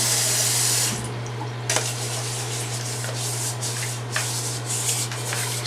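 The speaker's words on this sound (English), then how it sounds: "scrubbing the inside thing that holds the stuff for the rice cooker" Rice cooker inner pot being scrubbed under a running tap, with steady splashing water and rhythmic rubbing strokes against the pot, close and continuous over a low hum.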